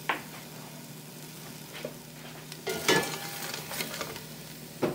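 Shallots frying in butter with lumpy salt and pepper give a steady low sizzle, with a few louder stirring scrapes and pan clatters breaking through near the middle and at the end.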